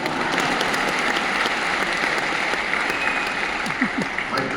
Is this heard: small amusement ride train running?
no